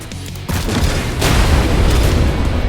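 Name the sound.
railgun Sparky firing in a video game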